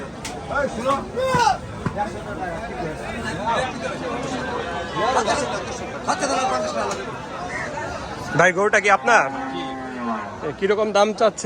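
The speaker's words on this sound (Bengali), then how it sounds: "পুরাই জমজমাট হাট প্রচুর গরুর আমদানি" Cattle moo and low amid a busy crowd at a city livestock market in Rajshahi, Bangladesh, with steady chatter and voices all around at close range.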